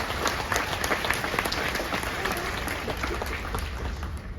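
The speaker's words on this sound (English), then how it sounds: "one person is clapping" Clapping during a captain's talk aboard the cruise ship Anthem of the Seas, a brisk run of handclaps with a faint crowd murmur behind, steady and fairly close throughout.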